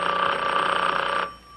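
An old-fashioned telephone bell rings in a sitcom scene, one sustained loud ring that stops abruptly, heard alone without talk.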